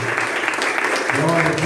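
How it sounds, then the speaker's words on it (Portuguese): A church congregation at a communion service breaks into applause, a dense, steady wash of clapping hands close by, with voices mixed in under the clapping. "Você pode aplaudir o Senhor?"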